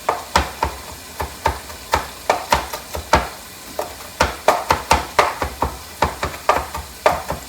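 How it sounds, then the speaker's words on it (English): Rapid irregular knife chops on a cutting board as parsley is chopped up, close, crisp and fairly loud, with quick bursts of strokes and short pauses. "I'm going to go ahead and cut some of this parsley, chop it up"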